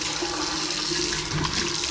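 A hotel toilet in Doha, Qatar, flushes with a steady, full rushing of water that fills the whole two seconds at close range, with no talk over it.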